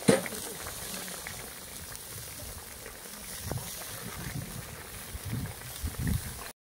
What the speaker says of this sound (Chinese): 盖上锅盖，接着给它焖。